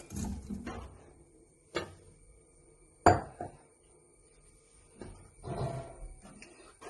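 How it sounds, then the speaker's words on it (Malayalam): Chicken goes into a pan with grated coconut and curry leaves for chicken thoran, heard as a few scattered clanks and scrapes of a utensil on metal with quiet gaps between them and no speech. "ഇനി നമുക്ക് ഈ ചിക്കൻ ഇതിലേക്ക് ഇട്ട് കൊടുക്കാം"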